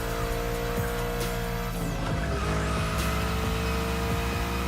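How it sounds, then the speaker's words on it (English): A car drifting in a driving game, its tires squealing and skidding loudly over a steady engine drone, with repeated screeches as the car slides through turns. "And I'm the one drifting."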